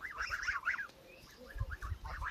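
Geese honk in a rapid run of nasal calls from several birds, close by and fairly loud, followed by a brief lull and another burst of honking.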